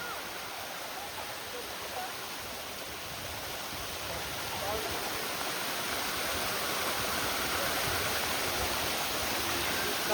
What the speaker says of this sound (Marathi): तुम्ही थोडे धबधब्याची मजा घ्या.